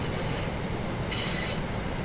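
Class 323 electric multiple unit passenger train in Train Sim World 3, a steady rumbling run of wheels on rails with a high squeal rising briefly in the middle.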